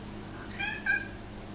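A pet cat gives one short, clear meow, a quick two-part call lasting under a second against quiet room tone.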